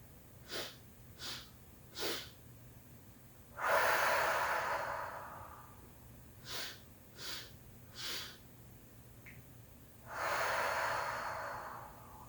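Slow deep breathing during a guided heart-centred breathwork session: three short sharp nasal inhales, then a long rushing exhale, with the pattern repeating twice, close and fairly loud, no talking.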